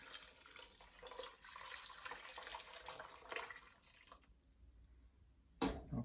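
Milk poured into a pot of steel cut oatmeal, a soft continuous liquid stream lasting several seconds before fading, followed by a short clunk near the end; quiet and close with no talking.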